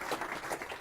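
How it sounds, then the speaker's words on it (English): A small crowd at a FOSDEM 2015 Internet of Things developer talk claps for under a second, a scattered patter of hands at moderate distance. "Big hand of applause, please"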